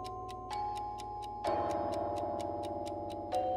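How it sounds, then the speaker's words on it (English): Several clocks ticking together in the background, a crisp regular series of ticks at a steady rapid pace, with overlapping electronic game tones and hums layered beneath, no talking. "What is that ticking noise in the background?"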